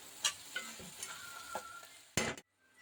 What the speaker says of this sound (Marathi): तर आपण त्याच्यामध्ये वाटाणा आणि फ्लावर टाकूया